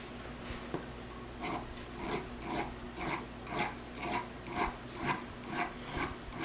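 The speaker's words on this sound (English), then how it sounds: "take your file and file off those burrs from the inside of your blade" Hand file scraping burrs off the inside of a jeweler's flush cutter blade, quiet rhythmic rasping strokes repeated about ten times at an even pace, close up.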